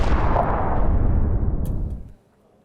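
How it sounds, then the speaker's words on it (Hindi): A rumbling, roaring blast from rocket bombardment, loud and broad, sustained for about two seconds before cutting off abruptly, with no speech over it. "नाजरेत में भी जबरदस्त बमबारी हुई।"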